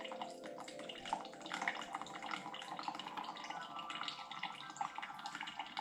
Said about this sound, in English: The coffee is dripping.